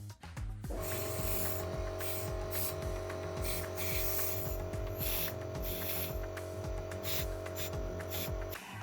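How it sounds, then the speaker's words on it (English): An air compressor blows air into the holes of a silicone rubber mould for casting a sculpture. A steady, close hiss with a humming drone runs almost the whole time, with no talk. "so we will use the compressor just now"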